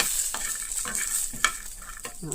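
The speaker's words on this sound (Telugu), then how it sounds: "ఇది కూడా ఇలా పొడలు రావాలన్నమాట పచ్చిమిరపకాయ వేగితే" Green chillies and peanuts frying in a pan, a steady bright sizzle broken by a few scraping stirs and crackles, close and loud with no talking.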